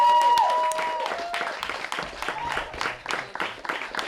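Applause from a comedy club audience in Cambridge fades out after a loud start, with some scattered claps and murmuring crowd noise continuing underneath.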